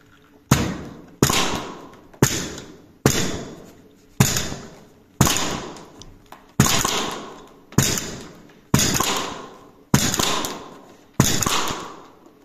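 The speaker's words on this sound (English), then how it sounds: "I slam fire it." A Novritsch SSR90 GEN2 airsoft sniper rifle is slam fired over and over, about ten sharp snapping shots at a steady pace of roughly one a second, each dying away quickly, with no talk.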